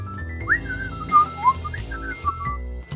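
A Beacon Pines character whistles a jaunty, wavering little tune while ambling away. The short melodic phrases are clear and close, over a soft game background.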